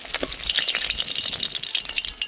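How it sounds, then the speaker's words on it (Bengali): Pieces of fried fish go into a simmering chili curry, bringing a dense, close crackle and bubbling hiss with a soft splash near the start and a steady sizzle afterward, with no voices. "ভেজে রাখা মাছ দিয়ে দেব।"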